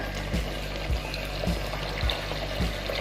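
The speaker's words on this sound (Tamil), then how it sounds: "இப்போ நான் இதில் கொஞ்சமாக தண்ணி சேர்த்துக்கிறேன்." Water poured into mutton curry in a pressure cooker, a continuous splashing pour with a few low thumps recurring roughly every half second, close and moderately loud with no talking.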